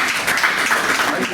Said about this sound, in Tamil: உங்களுடைய கரகோஷங்களோடு எழுத்தாளர்களுக்கு கேடயங்கள் வழங்கிய பிறகு திரு யார்கண்ணன் அவர்கள்